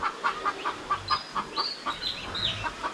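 Hens cluck in a steady rhythmic series near a newly arrived rooster, close and clear, with a few higher squawks rising over the pulsing calls.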